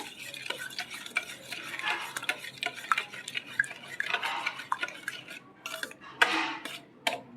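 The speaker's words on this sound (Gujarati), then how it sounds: "સારી રીતે મિક્સ કરી લેશું" A spoon scrapes and clinks steadily around a bowl, stirring thick yogurt in quick, uneven strokes with no talking.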